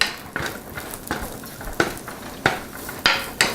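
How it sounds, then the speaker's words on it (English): Carrots, zucchini, onions and peppers are sautéed in a pan, with scraping stirs every half second or so and a steady close sizzle underneath. "quickly saute together some carrots and zucchini, some onions and some peppers"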